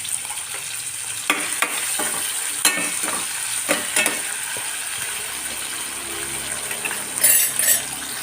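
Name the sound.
tomato and onion sautéing in oil for potato masala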